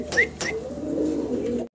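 A Maltese fancy pigeon of dun colouring gives a low, steady coo close up, preceded by two sharp higher notes, with a brief dip to silence at the end.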